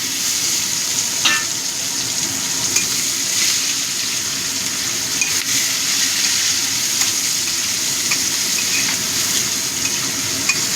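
Onions frying in oil with crushed garam masala for a red country-chicken curry: a steady, close hiss and sizzle runs throughout, broken by faint scraping and clinks of stirring, with no talking.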